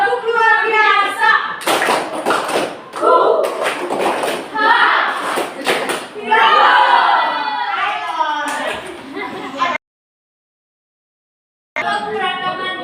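A class chants a rhythmic clap cheer, with repeated sharp hand claps punctuating loud group voices, then a brief silence before the chanting picks up again.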